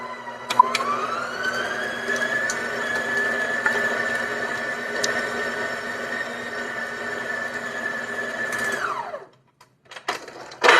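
An electric mixer beating cream cheese batter for a turtle cheesecake, a loud steady motor whine held for about nine seconds before shutting off, followed by a few clattering knocks.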